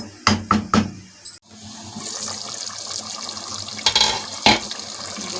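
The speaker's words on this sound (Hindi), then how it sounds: "इसमें ये जो दाल थी हमारी पानी समेत हम ये डाल देंगे।" Boiled lentils with their cooking water poured into a pot of white lobia and qeema, giving a few sharp splashes followed by a continuous liquid pour, then a couple more splashy bursts near the end.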